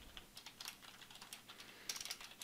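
Quiet, rapid typing on a computer keyboard, a close run of light key clicks with no voices.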